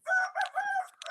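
A rooster crows once, a short, bright call close by against silence.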